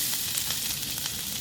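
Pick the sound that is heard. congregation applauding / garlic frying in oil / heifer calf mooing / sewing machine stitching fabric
garlic frying in oil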